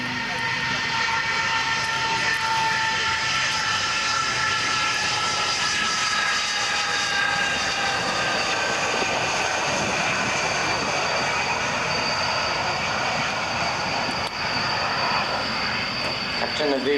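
Avro Vulcan bomber in flight at a Boscombe Down airshow, a steady, loud jet rumble layered with high whining engine tones that hold throughout, close and continuous.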